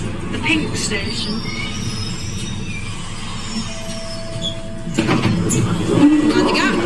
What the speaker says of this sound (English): Train arriving into Kinning Park